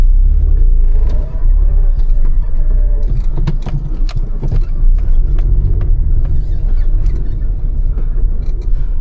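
A manual car's engine rumbling steadily as it makes a U-turn on a steep hill, loud and close inside the cabin, with creaks and jangling keys over it and someone talking.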